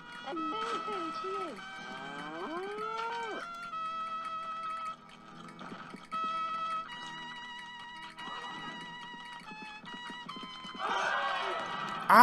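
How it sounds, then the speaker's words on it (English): A cartoon cow in the video game Conker's Bad Fur Day moos in a few drawn-out calls among game music, hoofbeat-like clip-clops and effects, no one talking. "now let's get that cow"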